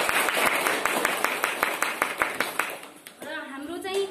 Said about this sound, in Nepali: उहाँको लागि पनि एक जोडा ताली सबै